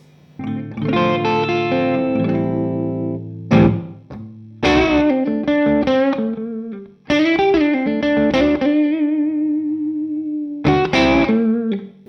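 An electric guitar plays through a DGT amp on its lead channel, giving a distorted, sustained tone: long ringing notes and chords with bends and vibrato, separated by brief pauses. It is close and loud, with no talking.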